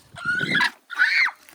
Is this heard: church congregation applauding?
no